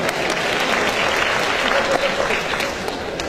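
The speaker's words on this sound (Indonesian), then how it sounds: "Dan tepuk tangan buat wanita-wanita Indonesia." Audience applause fills a hall in a dense, continuous wash of many hands clapping, loud and steady throughout with a faint voice beneath.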